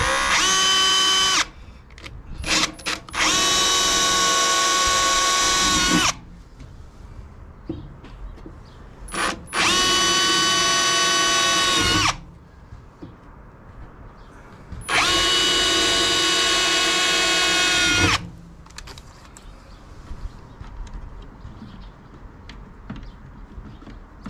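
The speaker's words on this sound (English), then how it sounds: "So I'm gonna rip through with a slightly smaller drill to start." A power drill whines loudly in several sustained bursts of a few seconds each, drilling holes with a small bit and then a 1/8-inch bit, separated by brief pauses and small clicks.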